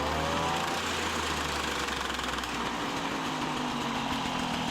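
An MBK 40V moped engine with a bad noise runs steadily near the microphone, its buzzing, slightly rattly note holding fairly even throughout with no talking over it.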